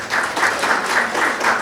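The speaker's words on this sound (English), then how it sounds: "Please give a round of applause." An audience at an awards ceremony applauds, a steady, dense wash of many hands clapping at once, loud and continuous throughout with no voices.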